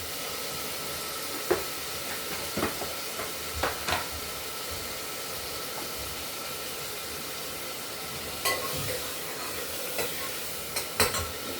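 Cumin seeds frying in a pan with onion, tomato, ginger and garlic give a steady hiss and sizzle throughout, broken by occasional crackles and spoon clinks while stirring.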